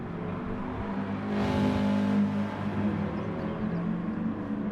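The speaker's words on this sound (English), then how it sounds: "Listen to the sound of these cars as well." WTCR race car engines in the video game GT Sport roar steadily, swelling briefly as a car revs and passes, then settling back to a droning hum.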